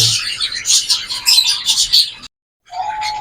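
Pet birds chirp and tweet in quick, busy bursts while gathering nesting material, fairly close and loud, then go briefly silent before a steadier chirping resumes.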